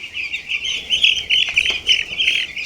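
A baby chick peeps rapidly and insistently at close range, a steady stream of shrill high chirps with a few soft handling knocks underneath.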